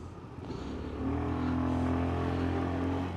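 A Daytona Flert 110 scooter, a Honda Beat 110 clone, rides through city traffic with a steady engine drone that rises into a sustained higher tone as it speeds up, set against surrounding traffic noise.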